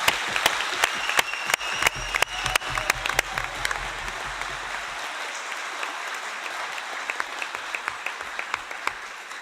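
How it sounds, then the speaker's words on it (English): A conference audience at a closing plenary in Nairobi applauds to endorse a proposal from El Salvador: dense, sustained clapping from many people in a large room, strongest at first and then thinning but continuing to the end. "it's going to be judged by the volume of applause in the room"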